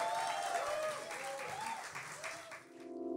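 A live music venue audience applauds a featured singer, dense steady clapping with some voices mixed in, tapering off near the end.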